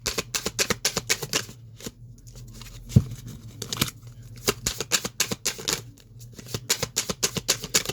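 Tarot cards are shuffled in rapid, crisp riffling bursts, close and fairly quiet, repeating in uneven clusters with brief pauses between them.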